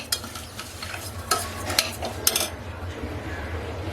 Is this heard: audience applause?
no